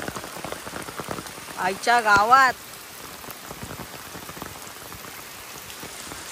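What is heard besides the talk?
rain falling outside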